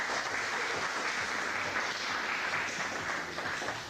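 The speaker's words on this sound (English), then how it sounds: "Let's give them a round of applause." An audience at a school sports match gives the judges a sustained round of applause, a steady wash of many hands clapping at moderate distance that fades slightly near the end.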